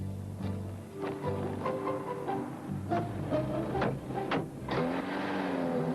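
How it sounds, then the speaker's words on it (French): Car engine revving and driving off, with rising and falling engine tones and several sharp accelerating sweeps over a steady low rumble throughout. "Arrêtez cette voiture!"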